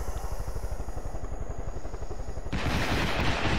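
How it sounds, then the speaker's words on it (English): A rapid volley of rockets launched in the video game Far Cry 5, a fast string of sharp thumping bursts in even rhythm, followed by a louder, broader whooshing roar as the salvo flies off. "press it one time and it launches a volley of rockets"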